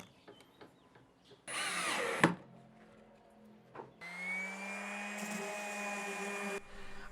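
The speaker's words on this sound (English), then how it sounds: "I then quickly ran over it with a sander, but only slightly so I could retain the rough cut patterns." A power sander runs over a rough-cut lumber garden planter in two bursts, a short whine followed by a longer, steady run of several seconds, with quiet knocks and handling noises between them.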